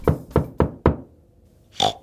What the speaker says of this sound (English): The next morning, there was another knock on the door.